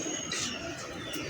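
Soft cooing from domestic pigeons kept as breeding pairs in a loft, low murmuring coos with a faint chirp heard close by over steady background noise.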